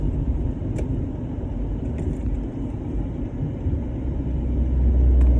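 Deep steady rumble of a big truck on the road close by, low-pitched engine and tire noise building slightly toward the end, with no talk.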